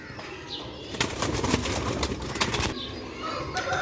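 Sialkoti rooftop pigeons fluttering and flapping in short bursts close by, with a soft coo or two and no talk over them.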